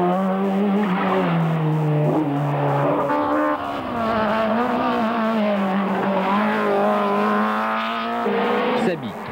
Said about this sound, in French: c'est Pierre-César Baroni qui se glisse à la seconde place derrière la BMW de Chatriot